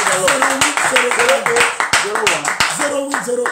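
Church congregation claps in rhythm during worship, sharp hand claps landing under loud voices and shouts of praise across the whole stretch.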